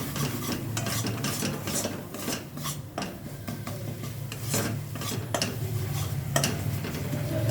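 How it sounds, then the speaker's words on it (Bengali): A spice paste with Kashmiri red chili powder is stir-fried in a pan, giving steady scraping and rasping stirring strokes with a faint sizzle underneath. No one speaks. "ভালোভাবে মশলাটা একটু কষিয়ে নেব।"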